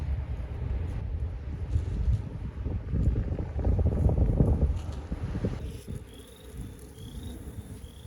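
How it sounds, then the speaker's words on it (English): Strong gusting wind rushes across an outdoor vegetable garden, a loud broadband roar that swells and peaks midway before easing slightly, with faint high insect-like chirps near the end. "it is super windy"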